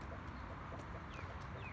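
Chickens cluck softly nearby around a three-year-old rooster, with a few short clucks and calls scattered over a quiet farmyard background.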